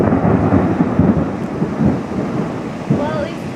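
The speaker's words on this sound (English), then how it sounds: "Oh my god, I'm getting rain everywhere." Rain falling during a thunderstorm, a steady broadband wash with low rumbling, close and fairly loud throughout, with a brief louder burst near the end.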